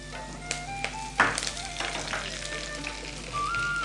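Cumin, urad dal and curry leaves sizzling in hot oil in a pan on low heat, a close, continuous crackling fry with a few sharper pops and stirring clinks, no voices.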